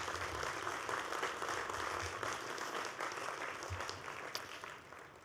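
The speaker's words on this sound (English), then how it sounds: "let us give them a round of applause for providing this opportunity" Applause at a university commencement ceremony for Dixie State University rolls through a large hall: a thick, continuous wash of clapping from a big crowd, heard at a moderate distance.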